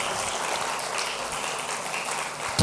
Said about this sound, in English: Can we have a huge round of applause for the amazing sponsors for the day?